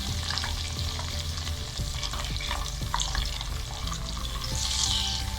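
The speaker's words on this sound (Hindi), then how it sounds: "अब हम इसमें डालेंगे प्याज और टमाटो का जो पेस्ट बनाया था वो हम इसमें ऐड करेंगे।" Onion and tomato paste hits a hot pan for an aloo anda curry and fries with a steady, dense sizzle, along with occasional scraping stirs and light clinks, close up and continuous with no one speaking.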